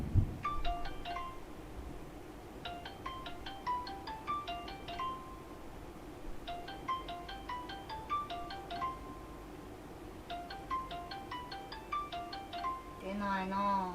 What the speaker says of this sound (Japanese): ちょっとよくわからないので電話してみるか。